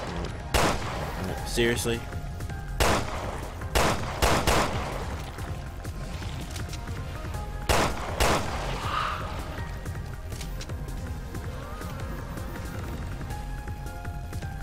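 Gunfire in Resident Evil Revelations 2 cracks out as sharp separate shots at irregular intervals over a steady game background, with a player's voice briefly speaking between them.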